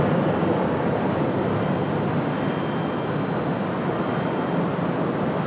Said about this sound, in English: An A300 for FedEx tonight.